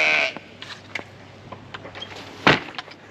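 Goats bleat at a wildlife park, a loud nearby call opening and another sharp bleat later, with soft clatters and scuffs in between.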